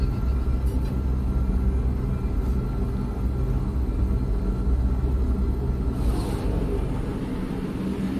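Steady, dense storm rumble on an alien planet in No Man's Sky, loud and continuous throughout with a couple of faint higher whooshes.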